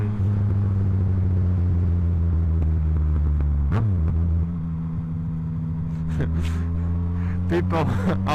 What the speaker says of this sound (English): Let's hear the popping.